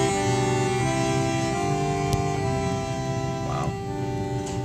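Sustained chord from a 1938 bandoneon playing holy music, steady and reedy with long held tones, fairly even loudness throughout and no talking over it.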